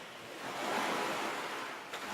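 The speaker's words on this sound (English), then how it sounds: "Nice waves. Makes you feel like you're at the beach." Ocean waves washing in a steady broadband surge within a music track's intro, swelling gently and holding at a moderate, even level with no voices.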